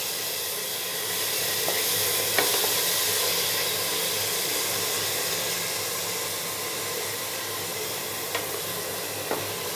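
Onion paste fries in a pan for a Bengali chilli chicken curry, giving a steady, loud sizzling hiss for about ten seconds. A few sharp clicks from stirring cut through, and no one speaks.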